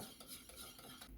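A spoon or whisk stirs cake batter in a bowl in a quick rhythmic swish, soft and close, with light scraping against the bowl.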